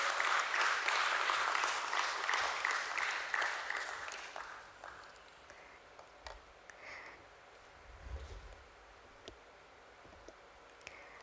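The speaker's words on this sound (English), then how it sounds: "Can we have a round of applause for him?" Audience applause at a stock exchange listing ceremony, loud and dense at first, then thinning out over several seconds into a few scattered claps and light rustling in a quiet hall.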